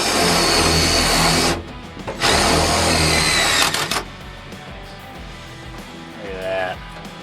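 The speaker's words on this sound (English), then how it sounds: "we're putting self-tappers in it so we can kind of get it all down and flush" A power driver whirs loudly in two long bursts as it drives self-tapping screws into a new steel floor pan in a rusty Ford Galaxie, then falls quieter while people talk.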